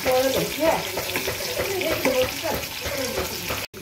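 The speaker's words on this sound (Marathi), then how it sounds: "कांदा चांगला लाल परतावा." Chopped onion fries in a pan until red, giving a busy close sizzle with stirring clatter throughout. A voice seems to talk over it, and there is a brief cut to silence near the end.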